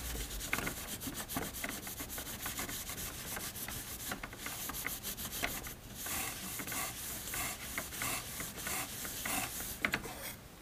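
A cloth rubs and wipes across a BuildTak flex plate for a Thingomatic 3D printer, giving steady close scrubbing strokes with brief pauses, loud and alone.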